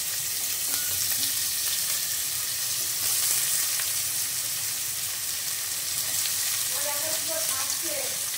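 Onions fry in oil in a kadai over a gas flame, a loud continuous sizzling hiss with occasional stirring scrapes, and a voice briefly heard under it near the end.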